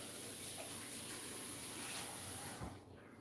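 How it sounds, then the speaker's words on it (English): Tap water runs steadily into a sink while a copper cup is rinsed, a constant close hiss that cuts off near the end. "I'm actually going to rinse this copper cup out first"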